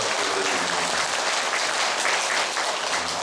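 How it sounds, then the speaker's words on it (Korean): A congregation at a Catholic charismatic prayer meeting in Incheon gives sustained, dense applause, loud and even throughout, with no talking. "하느님께 찬미와 영광의 박수 크게 올려드립니다"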